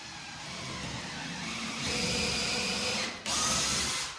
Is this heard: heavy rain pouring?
no